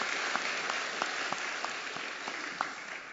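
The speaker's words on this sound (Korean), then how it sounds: "여러분은 친구 따라 우리 교회에 오신 것을 우리 교우들과 함께 진심으로 박수하며 환영합니다." A church congregation claps during a Sunday morning service to welcome visitors, an even roomy wash of applause with a few sharper individual claps standing out through it.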